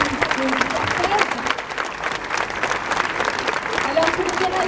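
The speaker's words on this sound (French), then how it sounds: "je vous demanderai de les applaudir chaleureusement" Marchers at a citizens' climate march in Caen applaud warmly outdoors on the street, with brisk, dense clapping mixed with voices and scattered calls throughout.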